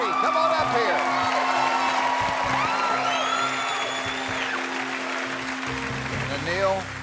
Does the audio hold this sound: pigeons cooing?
no